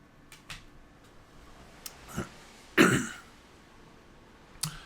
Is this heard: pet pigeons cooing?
no